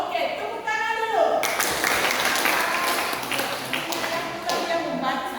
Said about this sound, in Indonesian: Ya, oke, tepuk tangan dulu.